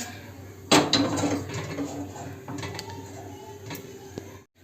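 A metal kadhai cooking pan is set down with a sharp clank, followed by fainter metallic rattles and light knocks in a quiet kitchen.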